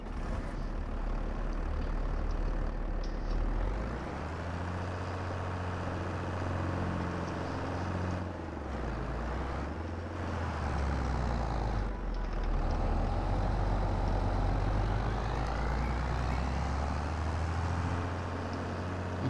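A heavy vehicle engine in the farming game Farming Simulator 22 drones steadily throughout, a deep low rumble with the revs dipping and rising around the middle, close and continuous with no talk.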